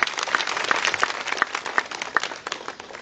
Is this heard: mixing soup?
no